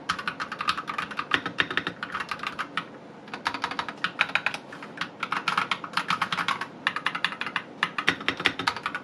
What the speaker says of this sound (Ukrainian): По звуку клавіатуру чути, але вона залишається в приємному звуковому.